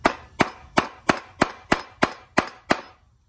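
A soft top hydraulic part on a Mercedes R129 SL500 is tapped into place: nine sharp metallic clangs at an even pace about every third of a second, each ringing briefly, close and loud with no talk.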